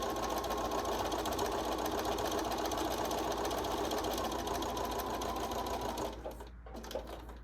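A sewing machine stitches an exposed zipper at a steady fast pace, with a continuous close whirring hum that eases off near the end.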